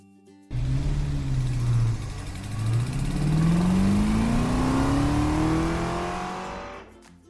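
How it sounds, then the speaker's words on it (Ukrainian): A car engine starts up and revs, its pitch climbing steadily as it accelerates, loud and close, before cutting off abruptly. No speech. "Це автомобіль."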